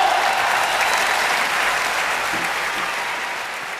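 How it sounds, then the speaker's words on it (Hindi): A stadium audience at a Hindi comic poetry event breaks into loud, dense applause that carries on evenly for a few seconds and tapers slightly at the end. "एक बार उठ जाए स्टेडियम जोरदार तालियों के साथ"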